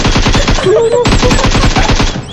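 Rapid automatic gunfire from the video game PUBG Mobile, loud, sustained bursts of evenly spaced shots with a brief gap midway, a faint voice briefly audible underneath.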